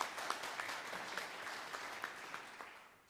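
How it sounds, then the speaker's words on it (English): Applause from the audience at a university jazz band spring concert, fairly faint and steady with scattered sharper claps, tapering off toward the end. "A little applause for these two gentlemen."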